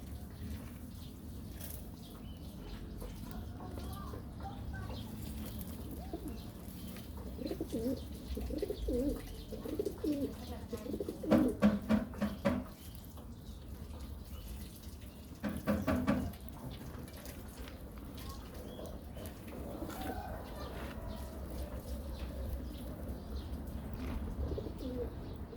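Pigeons kept and fed at home coo softly in low, murmuring phrases against a faint background, with brief rattling sounds midway and no talk.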